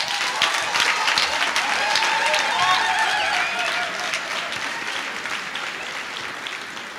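Audience at an anniversary lecture applauding, dense sustained clapping from a large crowd that stays loud throughout and eases slightly toward the end.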